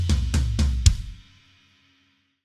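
A short drum fill played up close: a kick with a ride cymbal, then a rack tom, then three heavy floor tom hits together with the kick, booming low and decaying into quiet.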